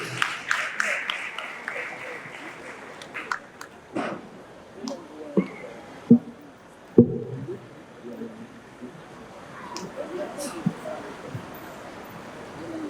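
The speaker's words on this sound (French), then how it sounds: "Sous vos applaudissements pour l'encourager." Scattered, sparse clapping from a gala dinner audience in Ouakam, faint and uneven, with a few sharper claps standing out against a quiet room.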